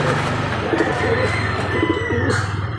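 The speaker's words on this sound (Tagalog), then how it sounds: "dami niyang alaga mga kalapatids" Pigeons coo in a breeder loft where some birds sit on eggs, giving soft repeated low throaty calls that overlap steadily throughout.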